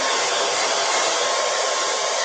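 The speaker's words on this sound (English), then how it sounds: "I'm going to put the hairdryer on" A hair dryer blows steadily on fresh Dixie Belle paint on a vintage oval frame, a loud, even, breathy whoosh up close with no talking.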